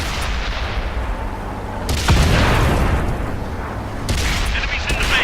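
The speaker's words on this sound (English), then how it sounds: "The artillery's coming in, the fire's coming through" Artillery shells exploding around a Matilda tank in World of Tanks, heavy booming blasts arriving in bursts over a rumbling battle din, loud and close.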